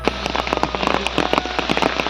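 Rain from a day-long downpour patters densely on a hard surface, a fast, irregular crackle of individual drops that is close and constant throughout.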